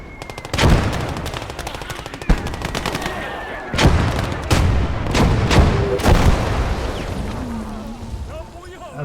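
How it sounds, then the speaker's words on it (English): A heavy gun fires in the video game Blood Red Snow: sharp, booming shots and short bursts spaced a second or two apart, loud and close, with faint voices in between. "there's a big heavy gun out there"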